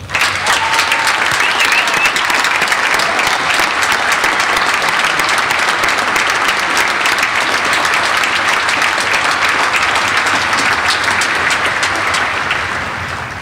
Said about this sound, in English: I think a hearty round of applause